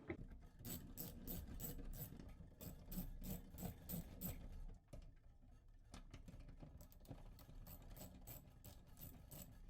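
A socket wrench ratchets as it removes small thumb nuts from the back of a Quest M3s coffee roaster, giving quiet, rapid bursts of clicking with brief pauses between.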